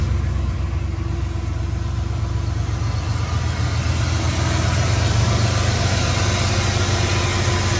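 A 1994 Ford F-150 Lightning pickup engine runs at a steady, close idle with a constant low rumble, no distinct crank heard, alone without talk.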